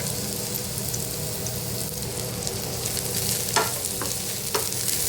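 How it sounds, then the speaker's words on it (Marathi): Sliced onion frying in oil in a pan for egg curry, a steady close sizzle throughout with a few brief clinks of stirring, no voices. "त्याच तेलामध्ये आपल्याला हा चिर उभा चिरलेला कांदा आहे तो घालायचा आहे आणि कांदाही आपल्याला चांगला भाजून घ्यायचा आहे"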